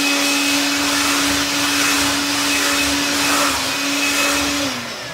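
A loud, steady electric whir runs for about five seconds as a fan blows water off a freshly washed item, then winds down at the end.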